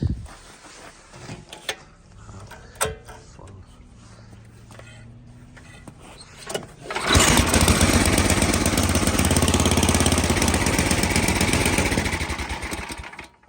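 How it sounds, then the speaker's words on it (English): An MTD snow thrower with a slipping belt sits quiet through several seconds of handling clicks and knocks, then its small engine starts and runs loud and steady for the rest of the clip before tapering off. "so I'll just turn it on quickly and see how it feels"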